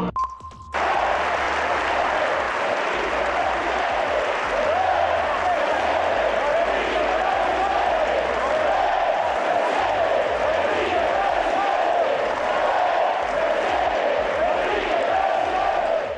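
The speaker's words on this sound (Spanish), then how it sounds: "ahí están las porras a Enrique presidente, como le gritaban los que estaban en el Teatro Morelos, y la ovación que se llevó" Crowd at a political event in the Teatro Morelos cheers, chants and applauds continuously, a dense roar of voices and clapping that stays loud throughout after a brief opening tone.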